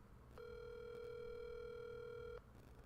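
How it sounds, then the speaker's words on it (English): A steady telephone dial tone sounds for about two seconds, a clean continuous hum that starts and stops abruptly, alone and fairly faint over quiet room hiss. "You guys want to hear a phone call?"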